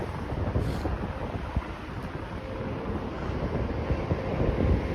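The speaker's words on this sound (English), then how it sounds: "Now it is windy." Steady wind buffeting the microphone on a city walk in Toronto, with a low rumbling roar and gusty thumps, continuous throughout.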